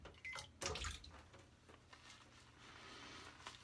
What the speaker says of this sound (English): I'm going to add water here.